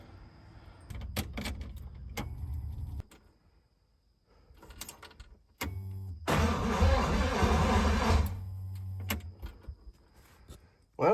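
A 1956 DeSoto, sitting unstarted for 15 years, cranks over in a steady, buzzing whir for a couple of seconds without catching, set between clicks and clunks of doors and controls nearby.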